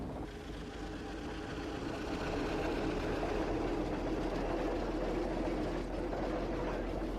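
A steam traction engine road roller runs close by, giving a dense, steady rumbling chug with broad mechanical noise that holds at an even level, with no voices.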